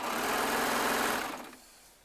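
Baby Lock serger stitching quilt strips, running in a fast continuous whir that holds steady before slowing and trailing off into quiet.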